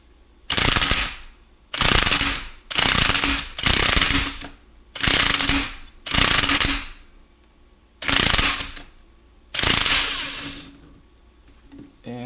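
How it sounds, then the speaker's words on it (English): An electric impact wrench with a 14mm socket removing bolts on a 2002 Honda Odyssey automatic transmission fires in eight loud, close, hammering bursts of about a second each, separated by short pauses. "I'm gonna use my electric impact"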